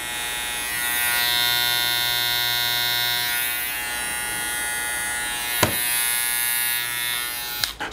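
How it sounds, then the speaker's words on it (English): A Stylecraft Saber 2 hair clipper runs with a steady, fairly loud electric buzz and a bright high whine. A couple of sharp clicks or knocks break in near the end. "So let's do the sound check on this clipper."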